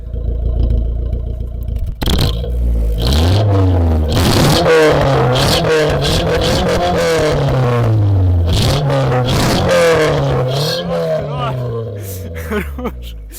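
A sports Ford engine revs hard and repeatedly bounces off the rev limiter, a raw, aggressive roar close by.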